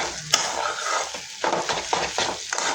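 Egg bhurji stir-fried in a pan, a spoon scraping and turning the mixture in short strokes over a steady close sizzle, with a sharp metallic tap near the start.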